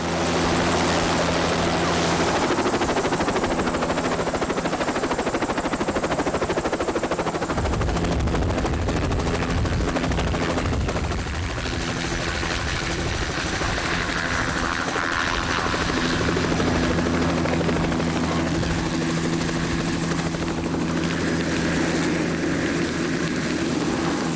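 Loud helicopter rotor thumping and engine roar throughout, with bursts of rapid gunfire and clatter mixed in, no talking, during a British SAS hostage rescue in the jungle.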